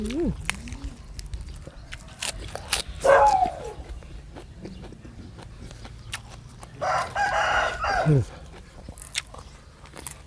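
A rooster crows outdoors on a cool, breezy rural evening, two drawn-out calls at moderate distance, with a dog barking and someone talking in between.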